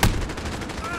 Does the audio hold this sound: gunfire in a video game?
yes